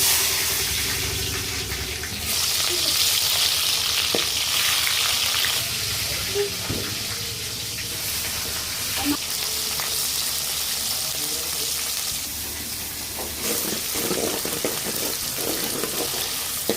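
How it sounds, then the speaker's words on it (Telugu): Green chillies and onions fry in oil in a pan, a continuous loud sizzle with occasional stirring scrapes throughout, while faint talk sits underneath. "పచ్చిమిర్చి ఉల్లిపాయలు బాగా ఫ్రై అంత వరకు అయితే కలిపేసుకున్నామండి"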